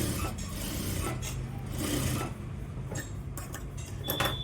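A sewing machine stitching a seam on a pair of pants runs in close, steady buzzing bursts with brief pauses between them, alone without talking.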